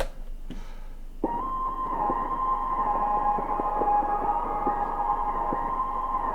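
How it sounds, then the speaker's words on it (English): After a brief soft tap, a future bass pitched vocal chop begins, repeating short bright notes in a steady melodic pattern with a sustained tone, heard alone. "the first layer we have is a vocal chop"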